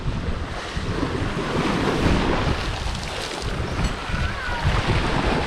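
High tide waves wash up against a seaside wall, a steady, loud rush of surf mixed with heavy wind buffeting the microphone, continuous throughout without speech.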